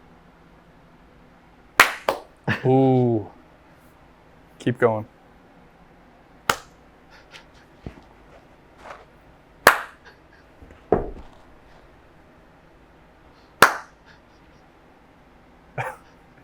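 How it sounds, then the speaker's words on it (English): Two people with eyes closed try to clap in unison, producing sharp single claps scattered unevenly across the moment instead of landing together, mixed with talking, exclamations and laughter. "Let's close our eyes. We have to clap at the same time."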